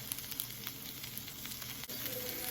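Butter and paprika sizzle in a pan with green beans, a steady close hiss of frying with a brief dip near the end before the sizzle resumes, no voices.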